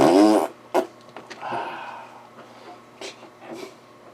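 A wet fart sound effect: a loud, sputtering burst right at the start, then a few softer, scattered blurts and puffs trailing off.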